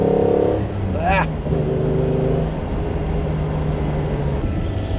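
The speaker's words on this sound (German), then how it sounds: "jetzt noch mal richtig Gas geben hier" A 1957 Mercedes 300 SL Roadster accelerates hard, its engine note climbing and then holding a rough, steady drone close by, while someone talks over it throughout.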